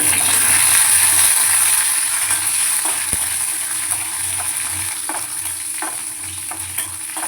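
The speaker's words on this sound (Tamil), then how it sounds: "அதில் கொஞ்சமாக எண்ணெய் ஊற்றிக்கணும். தாளிப்புக்கு கடுகு இருக்குது." Mustard seeds sizzle in hot oil in a pan, tempering for onion chutney, a steady loud hiss with scattered small pops and crackles that gradually soften.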